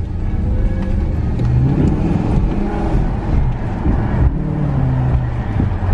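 A car engine hums steadily while driving, with road and wind noise throughout and no talking.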